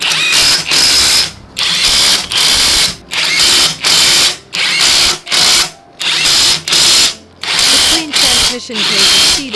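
Transmission case bolts on an old Daewoo being run down diagonally to torque with a power tool, giving repeated loud close bursts of whirring drive, each about half a second long, separated by short pauses.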